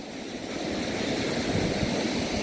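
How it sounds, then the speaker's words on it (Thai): Strong, cold wind buffets the summit of Khao Wong Phra Chan after a 3,790-step climb, a steady, dense roar rushing across the microphone with no voices. "ลมแรงมากครับ ลมก็แรงอากาศก็หนาว"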